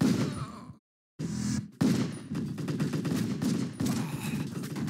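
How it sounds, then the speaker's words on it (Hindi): Heavy gunfire in the Total Overdose video game, with dense bursts and volleys of shots packed close together. A brief silent gap interrupts the clatter before it resumes, loud and continuous. "इतनी सारी गन कहाँ चला रहे हैं वे"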